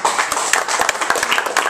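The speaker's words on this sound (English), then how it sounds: "Please don't hold your applause to the end. Clap after every poem." Audience applause fills a reading of poems from a collection at the San Francisco Marriott Marquis, a dense, steady burst of many hands clapping close and loud with no speech over it.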